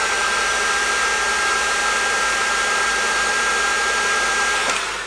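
A hair dryer heats a capacitor inside a 1955 Fender Tweed DeLuxe amp, blowing as a steady, loud, close whooshing hum with a faint whine, ending with a brief click.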